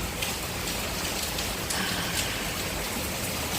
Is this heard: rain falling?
yes